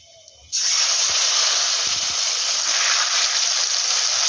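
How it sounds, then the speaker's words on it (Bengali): Ground ridge gourd paste hits hot oil tempered with nigella seeds, erupting into a loud, steady sizzle that starts abruptly and holds continuous and close with no talking. "এবার ফোড়নের উপরে দেব আগে থেকে বেটে রাখা ঝিঙেটা।"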